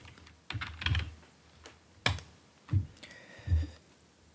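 Typing on a computer keyboard, with a few irregular clusters of close, crisp key clicks and thumps separated by short pauses, alone and without speech.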